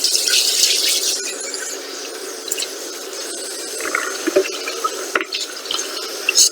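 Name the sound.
cold water running to rinse cabbage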